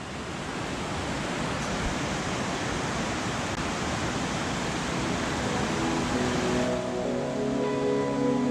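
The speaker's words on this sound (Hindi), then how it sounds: "इधर जो पानी का साउंड है आप सुन रहे होंगे" Rushing river water roars steadily and loudly nearby in the Kasol hills, a dense continuous flow with no talking.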